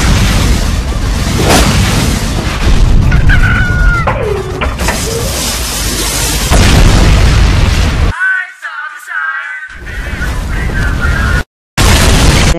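Loud, dense booming blasts and rumbling explosions from Team Fortress 2 meme edits, continuous and heavy, broken near the end by brief near-silent gaps, with some voices and sound effects mixed in.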